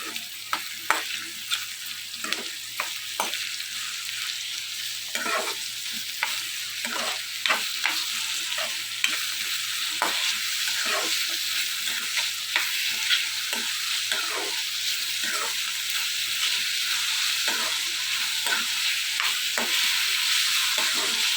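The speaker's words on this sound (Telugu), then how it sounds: "కొద్దిగా పసుపు వేసుకుని బాగా మిక్స్ చేసుకుందాం" Taro curry with turmeric, cumin and onions sizzles in a pan as a spoon stirs it, with steady frying hiss and frequent rhythmic scraping strokes close up throughout.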